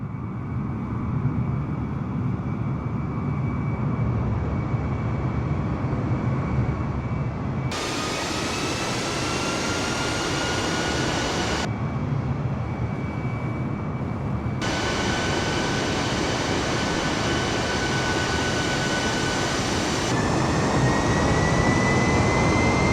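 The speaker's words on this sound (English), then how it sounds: "IranAir 655 takes off from Bandar Abbas Airport" Jet airliner engines roar during takeoff in Microsoft Flight Simulator, a loud, steady rumble with a rising whine that shifts abruptly between louder and duller sections as the view changes, with no voices.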